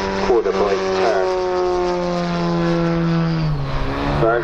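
A large model aircraft with a flat four petrol engine flying aerobatics at an airfield show, a loud steady droning buzz with pitch shifting as it climbs and passes, heard close and continuous.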